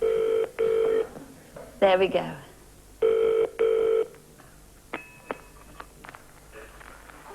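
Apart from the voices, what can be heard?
telephone dialing and ringing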